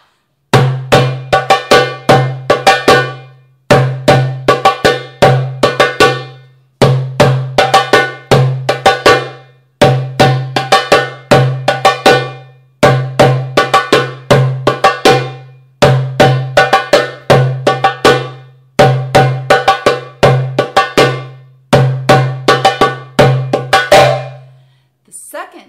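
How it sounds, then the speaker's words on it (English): Darbuka played solo in a single doom baladi rhythm, with deep doom strokes and sharp taka tek slaps repeating in eight even, close and loud phrases separated by brief pauses. "The first pattern that we'll be playing is single doom baladi"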